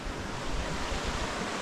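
A small waterfall rushes down a rocky gorge in the Scottish Highlands, a steady broadband roar of falling water heard close and loud, with some wind buffeting the microphone.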